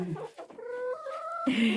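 Hens cluck close by in a run, a few short, throaty calls rising into a sustained tonal cackle, while the birds peck at someone's bracelets.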